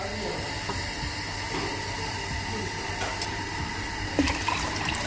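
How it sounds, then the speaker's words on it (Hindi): About three litres of water pour into a pot of haleem lentils, a continuous rushing, hissing fill close by that runs steadily, with a few small knocks near the end. "अब इसमें मैं शामिल करूंगी तकरीबन 3 लीटर के करीब पानी"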